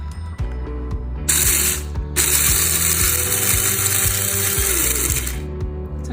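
An electric blade coffee grinder chops beans in two loud, close bursts of harsh whirring noise, separated by a brief pause. Light mechanical clicks come before the first burst.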